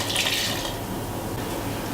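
Liquid poured from a bowl into pie crust dough in a home kitchen, a steady watery trickle lasting about two seconds with no talking over it.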